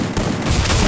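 Explosions and blasts in a mobile shooter battle game, a loud, dense burst of booming gunfire-like noise that fills the whole moment with no talking.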